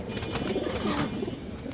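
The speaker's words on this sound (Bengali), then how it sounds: "এই যে এটা মাদি কবুতর" Female pigeons cooing at a pigeon farm, a soft low murmuring coo held steadily through the short moment with no talk.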